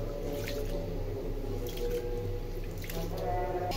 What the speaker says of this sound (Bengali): চালটা ধুয়ে নিচ্ছি।